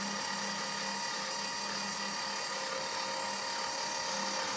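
A linear actuator drives a snow blower chute with a steady, even electric motor whine that holds at a constant level throughout, with no talking.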